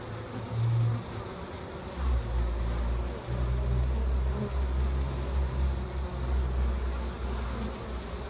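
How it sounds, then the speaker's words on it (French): Honeybees buzzing densely at a hive entrance, a steady close swarm drone with low hum rising and falling as bees come and go. "T'avais dit qu'elles étaient là, les abeilles, hein?"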